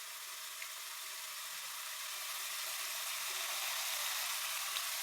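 Fish pieces for fish curry fry in a pan of oil, giving a steady, even sizzle that hisses continuously and gets slightly louder toward the end, and no one speaks over it.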